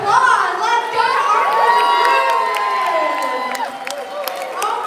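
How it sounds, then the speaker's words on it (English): An audience at a reception cheers and whoops continuously, with scattered shouts and some clapping mixed into the loud, sustained crowd noise. "Another round of applause!"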